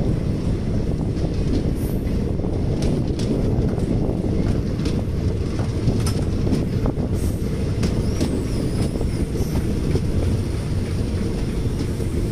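Sleeper-class passenger train on the Lingampally to Kakinada run, rolling along the track past the junction toward Kakinada: a steady, loud rumble of wheels and carriage noise with faint squeaks, continuous throughout.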